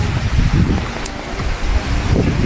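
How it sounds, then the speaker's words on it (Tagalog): Strong wind gusts across a rural Philippine farm where crops are being flattened. It makes a loud, continuous buffeting roar on the microphone that swells and eases without pause. "Sobrang lakas ng hangin ngayon."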